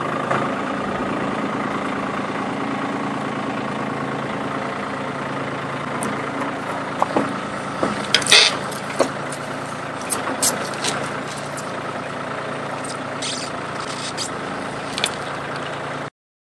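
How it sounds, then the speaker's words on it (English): Steady tractor engine running at a constant drone while pulling tension on a fence, with a few brief clicks and knocks of fence hardware near the middle. "now I'm going to get on the tractor and I'm going to start pulling tension"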